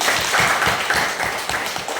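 A classroom group in a Christian religious education lesson claps hands in a quick, rhythmic patter of close, even beats lasting a couple of seconds.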